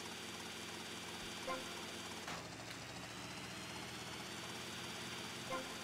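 A helicopter engine in GTA: Vice City drones steadily throughout, with a constant whirring rotor hum at moderate distance and a couple of faint clicks.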